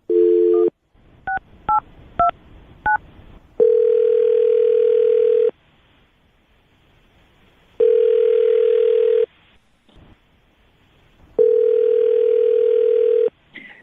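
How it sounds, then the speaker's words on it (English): Telephone keypad tones beep out a number in quick separate presses, followed by a steady ringback tone that repeats in long, loud bursts with silent gaps between them. "I will dial her phone number right now."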